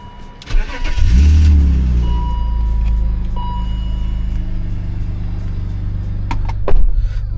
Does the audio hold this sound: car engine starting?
yes